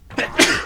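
A single loud, close sneeze during a SpongeBob Revenge of the Flying Dutchman gameplay session, a quick inhaled buildup followed by a sharp explosive burst.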